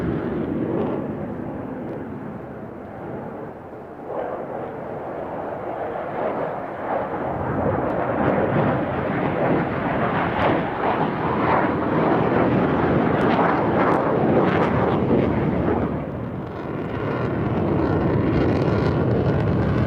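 An F/A-18 Hornet fighter jet flies at an air show, giving a loud, sustained roaring jet rumble that swells and holds steady for most of the stretch, with a brief dip before building again.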